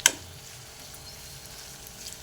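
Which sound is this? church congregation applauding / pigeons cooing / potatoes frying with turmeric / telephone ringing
potatoes frying with turmeric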